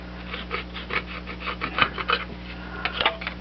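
A cheap box-store carpenter's chisel scraping an old gasket off a Hotsy 555SS pressure washer part, a series of short rasping scrapes in an uneven rhythm over a faint low hum.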